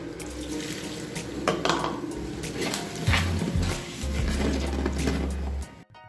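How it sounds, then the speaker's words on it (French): Tap water runs steadily into a pot for mafe sauce with okra, a continuous close splashing and gurgling stream with faint bird cooing in the background, ending abruptly as the flow stops. "Je vais rajouter aussi 20 centilitres d'eau."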